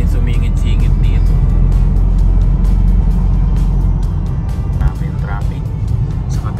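Dense Manila rush hour road traffic during a holiday long weekend, with a constant loud engine drone, close vehicles passing and a few faint horn toots.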